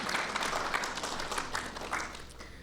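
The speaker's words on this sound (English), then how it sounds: "You can clap for that." Steady applause from a crowd at a library branch event, many hands clapping continuously at moderate volume throughout.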